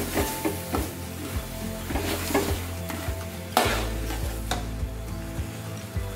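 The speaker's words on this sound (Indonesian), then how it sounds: "Kita tumis lagi bentar aja, asal tercampur aja." Pork rendang ingredients being stir-fried in a pan, with a steady close sizzle and repeated scraping, clinking strokes of a utensil against the pan, no talking.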